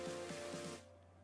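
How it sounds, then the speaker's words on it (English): A can of WD-40 sprays in a steady, close hiss onto the castle nut of a car's ball joint, cutting off after under a second. "Next I'm going to spray some WD-40 on that castle nut for the ball joint."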